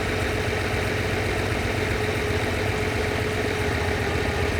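A Lamborghini 350 GT engine idles steadily during carburetor tuning, a close, continuous low rumble with an even throb that holds at a constant level with no talk over it.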